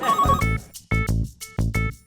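A telephone rings in repeated bursts of a bright electronic trill, close and loud, with short gaps between rings and no one speaking.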